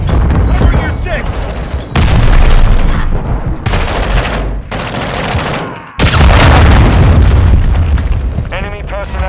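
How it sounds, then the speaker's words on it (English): Cruise missile strike in Modern Warfare 2 hardpoint multiplayer: loud, sustained booming explosions roll in waves across several seconds, mixed with gunfire and in-game radio voices. "Friendly cruise missile deployed"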